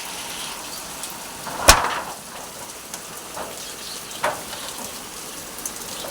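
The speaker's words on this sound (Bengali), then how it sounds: "ধীরে বৃষ্টি শুরু হয়ে গেছে" Light rain begins falling outdoors as a soft, steady hiss of drops, with a sharp knock and a few faint taps scattered through it.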